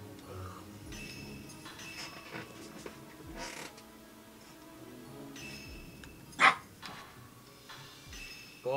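A dog barks and whimpers in a room during a late-night gaming session, with a few sharp yips and one loud close bark standing out over a quiet background hum.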